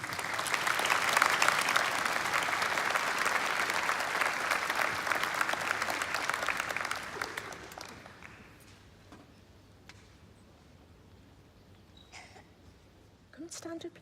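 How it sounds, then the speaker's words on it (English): An arena audience at the Light up a Life 2018 memorial service at Metro Radio Arena claps loudly and steadily for about seven seconds. The applause then fades to a hushed hall with a few faint knocks and shuffles. "Can we give them a round of applause?"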